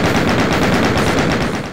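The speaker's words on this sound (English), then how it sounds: "down to the menu choices being gun noises" Rapid gunfire from the menu of the first-person shooter video game Doom, a dense, loud burst of fast repeating shots like a machine gun, heard alone without speech.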